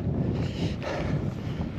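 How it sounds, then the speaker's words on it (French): Wind gusts across a mountain ridge near the summit of Mont Fourcat in the Ariège, buffeting the microphone with a loud, low rumbling roar that swells and eases over a couple of seconds. "Et là, le vent, il recommence"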